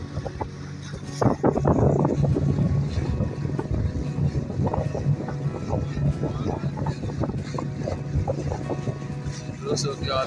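Big passenger boat under way on the Oti River, its steady engine drone and wind rushing past the microphone filling the ride, with people talking nearby over the noise.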